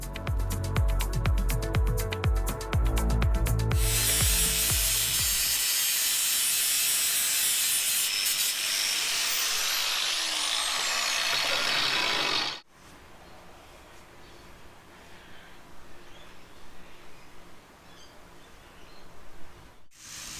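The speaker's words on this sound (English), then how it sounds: "I made sure there was plenty of weld on the join to grind off" An angle grinder grinds excess weld off a steel join on a reclaimed-steel chin-up bar, a loud continuous abrasive roar with motor whine that cuts off abruptly, leaving quieter shop noise.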